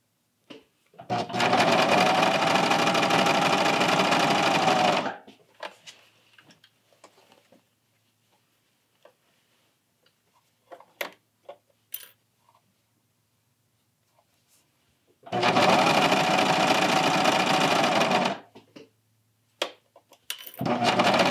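A serger stitches the shoulder seam of a knit tee in two loud, steady bursts of whirring, each lasting several seconds, separated by quiet pauses with faint handling clicks.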